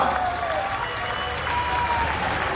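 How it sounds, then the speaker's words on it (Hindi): Steady applause from a large crowd at a political election rally in Rewari, India, dense clapping at an even level throughout. "तीनों के लिए जोर से ताली बजाइए जरा।"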